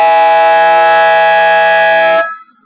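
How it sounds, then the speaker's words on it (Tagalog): Loud, sustained electronic buzzer at a basketball game sounding for about two seconds to end the third quarter, then cutting off abruptly into quiet. "Buzzer na lang marinig"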